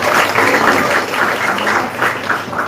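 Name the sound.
audience applause at a speech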